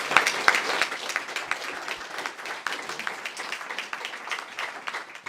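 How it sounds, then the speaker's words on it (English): Modest applause from a small audience at an evening talk in a pub and lodge, a few dozen hands clapping unevenly at close range for several seconds. "we could have a round of applause for Joe"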